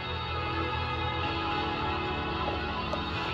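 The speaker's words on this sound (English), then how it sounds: "All that sound is coming from the 25-inch soundbar." Music plays from a Kspeaker K100PLUS 25-inch soundbar mounted on a UTV, a dense, steady full-band mix heard from a distance outdoors, even in level throughout, with no talk.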